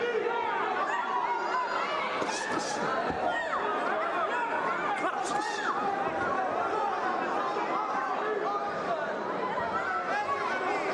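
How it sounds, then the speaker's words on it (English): Boxing crowd cheering for Javier Molina during his LA Fight Club bout against Jessie Roman, a dense, steady roar of voices and chatter that never lets up, with commentators talking over it. "You hear the Molina crowd."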